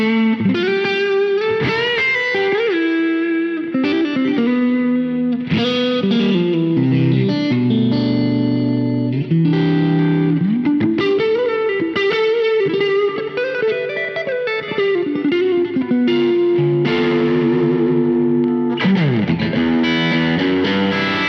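Electric guitar played through an IK Multimedia ToneX amp-modeling pedal, a loud distorted tone with effects, chorus and reverb, running as continuous melodic lines and sustained bent notes with no talk.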